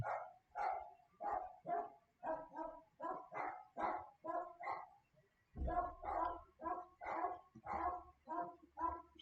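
Dogs bark repeatedly in a steady rhythm, fairly loud and close, with a low rumble joining partway through.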